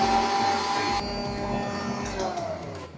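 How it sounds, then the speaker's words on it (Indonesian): An electric mixer whirs steadily while beating egg whites to stiff peaks for a marble cake, a loud continuous motor drone that shifts pitch slightly about a second in, with no talking. "Dan di sini akan kita mixer hingga putih telur ini mengembang kaku sempurna."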